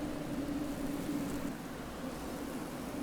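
Looping desert ambience for an Unreal Engine 4 driving game, a steady, soft wash of broadband wind-like noise with a faint low hum, continuous and even throughout.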